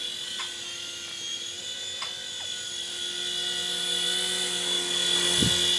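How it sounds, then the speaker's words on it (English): An Apache helicopter flies by with a steady, droning whine and a rotor hum that swells slightly louder toward the end, with a few faint clicks and no speech. "The Apache helicopter"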